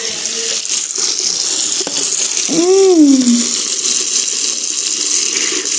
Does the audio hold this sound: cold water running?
yes